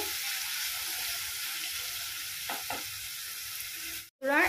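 Tomatoes frying in a pan with a little salt, a steady close sizzle throughout with brief stirring scrapes, then a short break and a louder burst of sizzling at the end.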